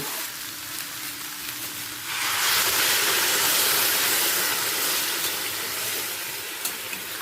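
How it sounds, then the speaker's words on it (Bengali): Hot water poured into peas frying in a pan for a Bengali potato and pea curry. A quiet stretch gives way to a sudden loud, steady hiss and sizzle that carries on to the end. "ফুটতে শুরু করে দিয়েছে"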